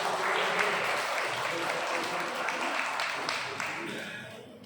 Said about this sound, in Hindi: एक बार जोरदार तालियों से इनका स्वागत।